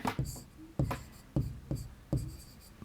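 A pen scratches out a shop bill on paper in quick strokes, about four bursts of writing with short pauses between them, close and quiet, under faint talk.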